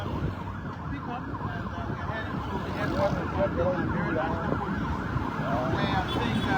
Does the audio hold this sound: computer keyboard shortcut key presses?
no